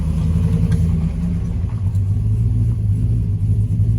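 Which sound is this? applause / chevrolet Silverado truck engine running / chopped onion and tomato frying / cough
chevrolet Silverado truck engine running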